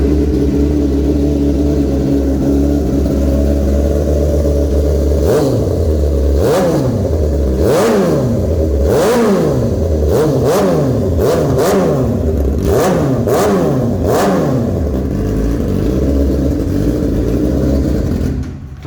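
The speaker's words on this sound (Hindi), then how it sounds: "लेके चलेंगे व्यूअर्स आपको इसकी साउंड टेस्ट भी करवाते हैं" A 2023 Suzuki GSX-R600 sport motorcycle idles steadily, then is blipped through a rapid series of sharp throttle revs that rise and fall repeatedly, loud and close, with no talking.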